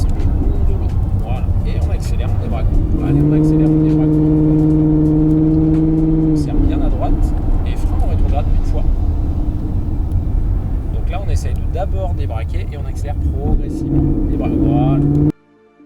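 A Ford Mustang accelerates around a race circuit, its engine droning steadily with rising and falling revs and tire noise. Someone talks over it almost throughout.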